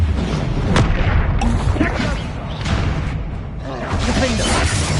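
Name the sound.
Confringo spell explosion from video game Hogwarts Legacy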